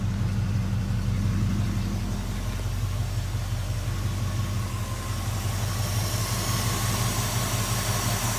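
A Ford Cougar XR7 survivor car's 289 V8 idles steadily at about 600 RPM with rebuilt, adjusted lifters, giving a smooth, low, even rumble up close, with no talk over it.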